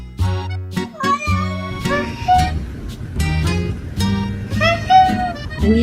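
A cat meows over and over at close range, a run of chatty, rising and falling vocal meows with short gaps between them.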